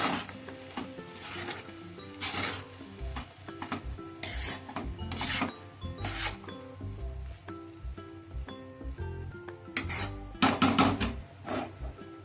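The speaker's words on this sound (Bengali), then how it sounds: "ভালো করে মিশিয়ে দেব।" Peas pulao mixed in a pan, heard as repeated rubbing, scraping strokes of a spatula through rice, uneven in rhythm and close by, with occasional light knocks against the pan and no speech.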